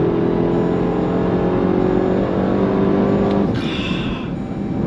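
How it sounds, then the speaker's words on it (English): A 2025 Dodge Durango Hellcat Hammerhead performance SUV accelerates hard in second gear, its engine drone and high supercharger whine rising steadily inside the cabin before a shift near the end. "Love that supercharger whine"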